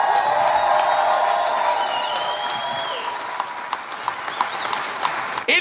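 A live comedy show audience applauds and cheers for nine comedians, loud sustained clapping with whoops and shouts, thinning toward the end.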